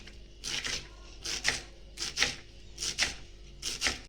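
Coriander being finely chopped with a knife on a board: rapid crisp bursts of blade strokes in short clusters with brief pauses between them, close and clear with no talking.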